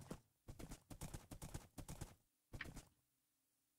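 Horse hooves clip-clop in the Minecraft video game, rapid hollow clusters of steps in several short bursts separated by brief pauses, faint and even.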